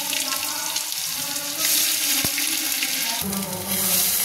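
Ginger and onion paste hits hot oil in a kadai with bay leaves, giving a bright, dense sizzle that holds steady and swells louder near the end, with one sharp utensil tap partway through.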